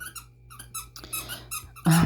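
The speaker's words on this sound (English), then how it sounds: "my dog is playing with his toy." A dog's squeaky toy squeaks in a rapid series of short, high squeals indoors, followed by a sudden louder thump or rustle at the end.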